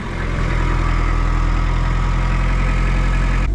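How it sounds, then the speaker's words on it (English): A diesel engine idles nearby with a continuous low, throbbing rumble, loud and steady throughout with no voices. "Listen to that diesel purr."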